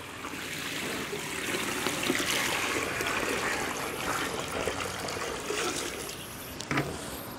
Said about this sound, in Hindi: दो किलो कली में पाँच लीटर पानी हम डाल देंगे